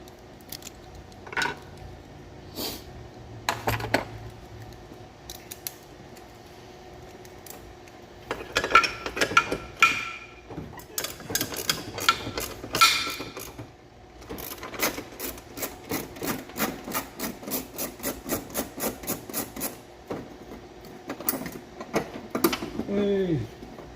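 A wrench works a 10 mm bolt during air-conditioning line removal, giving bursts of quick, regular ratcheting clicks mixed with metallic scrapes and clatter, with voices heard faintly in between.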